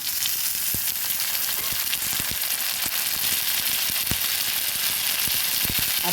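Onions frying in a pan for a snakehead fish and potato curry, a constant bright sizzle with scattered clicks of a utensil against the pan, steady and close.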